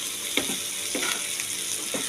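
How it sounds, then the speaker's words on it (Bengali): A steady sizzle of potatoes and onions frying in a pan, with a few scraping stirs breaking through at intervals. "আলুর সাথে পেঁয়াজটা একটু ভালো করে ভাজা হোক"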